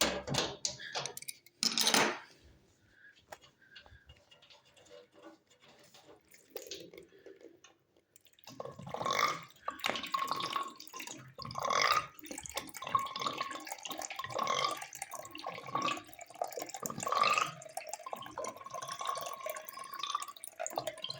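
Water drains from a heating radiator in short spurts and drips, with quiet gaps between them and a faint metallic ringing tone running through the later part, close and fairly soft.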